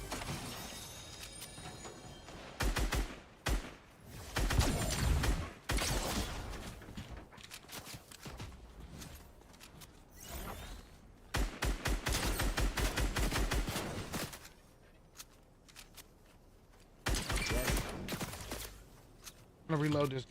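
Gunfire in Fortnite comes in several loud bursts of rapid shots separated by quieter gaps, with other game noises in between.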